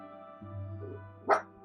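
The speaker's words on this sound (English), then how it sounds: "Stop barking, please." A dog gives a single short, close bark, heard over a low steady hum.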